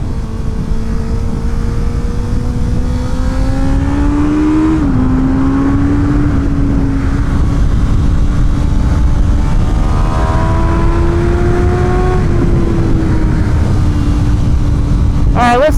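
A Honda CB650R motorcycle engine drones loud and steady on a race track, its pitch climbing through the gears, dipping briefly on a shift and settling again, with wind rush and a rider talking over it.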